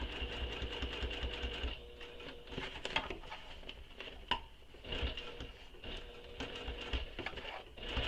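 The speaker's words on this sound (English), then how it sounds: "So I'm just sewing over it here." A sewing machine stitches over the second side of a fabric bag, whirring in steady bursts with brief pauses and a few sharp clicks, close and fairly quiet.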